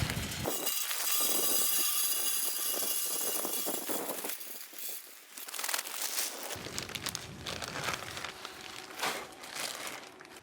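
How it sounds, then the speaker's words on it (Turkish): A pellet barbecue grill burning compressed beech and hornbeam wood pellets, its fan starting up and running with a steady, loud whooshing drone that shifts in tone partway through, with some crinkling noise on top. "Şu an bakın fan çalışmaya başladı. Yani makine çalışıyor."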